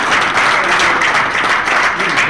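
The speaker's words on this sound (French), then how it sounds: "je pense qu'il faut l'applaudir particulièrement" Conference audience applauding a doctor at a medical congress, a steady, dense burst of clapping filling the hall for a couple of seconds, with some voices mixed in.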